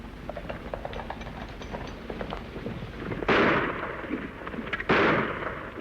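Gunshots in a Western TV drama: two loud, sharp reports that ring out, a second or so apart, after a stretch of softer scattered clicks and clatter.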